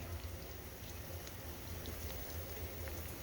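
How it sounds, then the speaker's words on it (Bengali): Bread pieces fry in hot oil, a faint steady sizzle with soft bubbling crackles throughout. "এবার এর মধ্যে আমি একে একে করে সেই পাউরুটির টুকরোগুলো ছেড়ে দিয়ে সুন্দর লালচে রং করে ভেজে নিব।"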